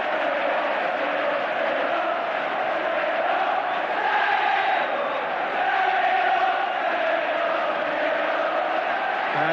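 A large football crowd at a 1983 Derby County versus Fulham second division match chants together in a continuous, roaring mass of voices that swells and holds across the whole stretch.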